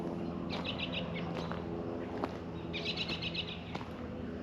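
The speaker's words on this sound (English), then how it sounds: "All them birds are chirping." Birds chirping outdoors near a pond on a farm work day: two short bursts of quick repeated tweets, fairly faint over a steady background rumble.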